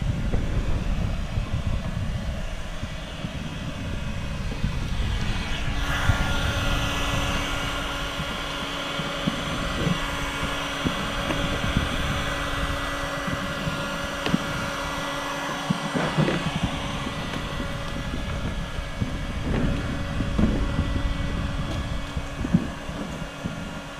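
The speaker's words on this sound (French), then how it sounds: "il y en a un qui tient le thermochauffant, parce qu'en fait, il faut chauffer le film pour bien pouvoir le retirer" A heat gun blows a steady, loud whirring roar while warming camouflage wrap film so it can be peeled off an Audi RS6. The hum is constant and close, with faint handling noises and no talking.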